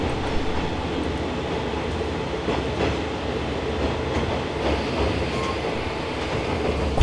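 A KiHa 120 series diesel railcar runs on a local line toward Bihoku-Okawa, its wheels rumbling and clacking steadily over the rails with a constant low drone throughout, no voices.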